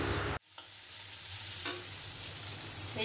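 Potato and bottle gourd peels fry in hot oil with a steady, loud sizzle after a sharp cut at the start, punctuated by a couple of brief stirring scrapes, with no talk.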